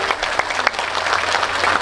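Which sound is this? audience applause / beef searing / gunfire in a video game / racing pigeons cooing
audience applause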